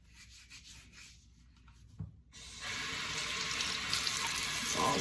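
Hands lathered with homemade seashell soap are rubbed together with a gritty scrubbing sound. A tap then opens, and water pours steadily into a sink and grows louder.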